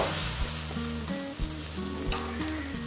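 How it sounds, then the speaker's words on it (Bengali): Potato curry for a vegetarian aloo dum is stirred and sautéed in a pan, a low sizzle with occasional stirring scrapes under a tonal background hum, quiet and steady with no speech. "দিয়ে একটু এটাকে নেড়ে চেড়ে নেব, কষিয়ে নেব।"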